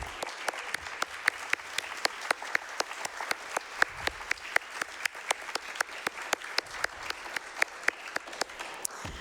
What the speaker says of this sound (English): Can we all have a round of applause for our crossing guards in the room?